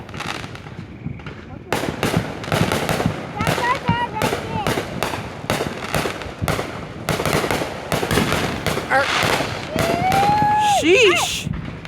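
July 4th fireworks exploding outdoors in a long run of sharp cracks and booms at irregular intervals, some whistling rockets rising near the end, with people talking and exclaiming throughout.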